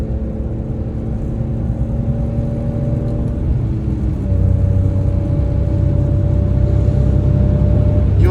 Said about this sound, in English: You will never get that perfect, naturally aspirated inline six sound ever again